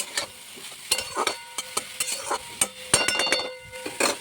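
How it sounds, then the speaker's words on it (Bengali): Greens cooked with masoor lentils are stirred in a pan, a spatula clinking and scraping against metal in irregular strokes over a soft, steady sizzle. "তো শাকটাকে আরেকটু ভেজে তারপরে ঘি দিয়ে নামিয়ে নেব।"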